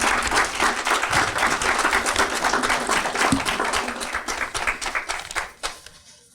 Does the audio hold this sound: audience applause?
yes